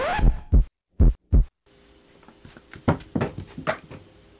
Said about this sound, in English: when you close his eyes, there's only the sound of his heartbeat playing in the background